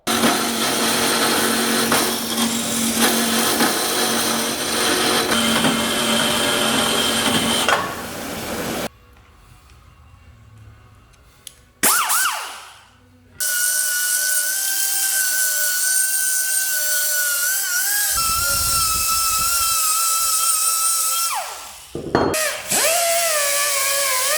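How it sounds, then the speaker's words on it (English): A power saw cutting a piece of 1018 cold-rolled steel for swing arm spacers, with a loud sustained whine that stops, a short pause with clatter, then a second long steady cutting run with tonal overtones. "Now let's go on over to the saw."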